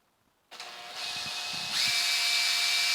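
Power drill boring a hole into foam: the motor starts abruptly after a brief silence, whines steadily, then rises to a louder, higher, sustained whir, close up with no talk.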